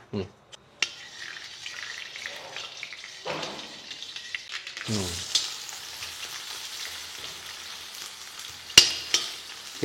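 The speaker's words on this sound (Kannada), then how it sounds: "ಸಾಸಿವೆ ಚಟಪಟ ಅಂತ ಸಿಡಿದ ತಕ್ಷಣ ಈರುಳ್ಳಿ ಹಾಕೊಳ್ಳೋಣ" Mustard seeds spluttering in hot oil before onion is added, for avarekalu gojju: quiet crackling and sizzle with scattered sharp pops and clinks, swelling into a fuller fry midway.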